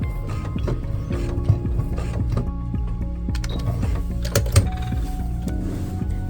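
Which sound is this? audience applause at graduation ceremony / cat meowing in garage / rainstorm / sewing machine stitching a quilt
sewing machine stitching a quilt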